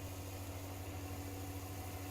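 Tractor engine in Farming Simulator 19 running at high revs during grain unloading, a steady low droning hum with constant vibration, fairly quiet and alone with no voices.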